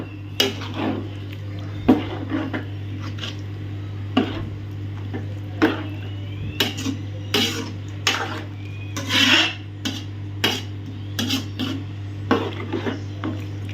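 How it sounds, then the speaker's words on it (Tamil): A spoon scrapes and clinks against a metal pot in irregular strokes as drumstick curry is stirred, over a steady low hum. "எல்லாத்தையும் நல்லா மிக்ஸ் பண்ணி விட்ருவோம்"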